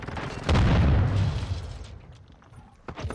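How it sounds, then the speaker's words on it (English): A heavy in-game mortar strike explosion in Call of Duty MW2 booms loudly and then rumbles and fades over a couple of seconds, followed by a few faint clicks. "I don't know where to drop this mortar strike"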